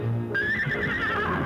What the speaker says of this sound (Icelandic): fekk lánað alvöru hnegg á segulbandi